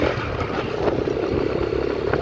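A 125cc five-gear motorbike engine runs with a steady buzzing drone and slight rhythmic flutter as gears shift, close and fairly loud, with no voices.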